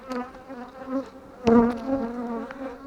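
Honey bees buzz steadily around a hive frame during a beehive inspection, a close, continuous droning hum with shifting pitch that swells briefly midway, no talking.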